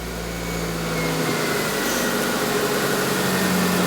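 A Proton Wira's engine runs with its airbox removed, a close, rough idle with a steady droning hum that builds slightly in loudness, no talking.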